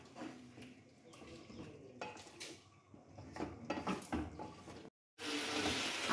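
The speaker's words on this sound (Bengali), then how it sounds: "ভালো করে এবার নাড়াচাড়া করে নেব।" Spoon stirring mutton and pointed gourd curry in a cooking pot: repeated scraping and clinking strokes at close range, then a steady loud hiss of frying toward the end.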